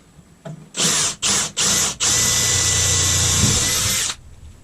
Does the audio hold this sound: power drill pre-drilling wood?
yes